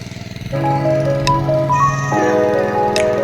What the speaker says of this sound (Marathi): हा बघा नितीन दादा पण आहे इकडे ट्रॅक्टर चालवता.